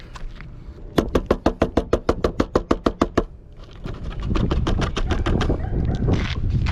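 A hand repeatedly slapping the side of a metal dryer vent periscope, giving about a dozen sharp, evenly spaced hollow metallic knocks up close, then a rougher rustling and scraping noise.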